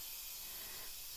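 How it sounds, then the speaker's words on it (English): Compressed air from a shop compressor hisses steadily into a tire as it inflates on a 21-inch Tesla wheel, a constant, even rush of air with no other sounds. "So I'm just going to clamp on here and just inflate it. This uses the air out of the, just the compressor."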